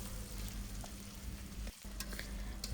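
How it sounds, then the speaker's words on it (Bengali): Onions fry in oil in a pan, a steady close sizzle with soft scraping as they are stirred repeatedly, one short dip in the middle, no talking. "পেঁয়াজগুলো ভেজে নেওয়ার সময় খেয়াল করতে হবে বারে বারে নেড়ে দিতে হবে"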